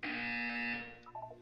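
A loud electronic buzzer from the video game Portal 2 blares as one sustained harsh tone for under a second, then cuts off, leaving a few faint fluttering tones behind.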